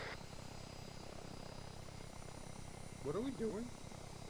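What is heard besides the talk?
Osprey tiltrotor aircraft taking off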